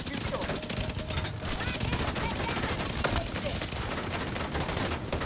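An 850 RPM weapon fires in The Division 2, a rapid continuous stream of close, loud automatic shots that runs the whole length of the clip with no pauses.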